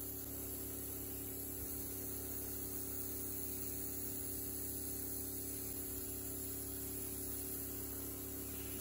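An airbrush spraying purple paint onto a miniature, a steady hissing spray held at constant level throughout with an even mechanical hum underneath, no talk.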